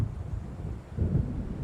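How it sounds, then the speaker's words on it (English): Low distant rumbling of thunder from an approaching storm over open sea in a video game, a soft, steady roll that swells slightly in the second half. "It seems there's a storm coming."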